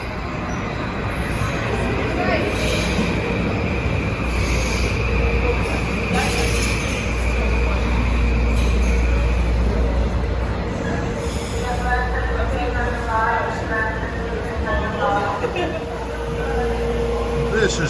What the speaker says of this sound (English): Here comes 1375 from Stamford to Grand Central stopping here.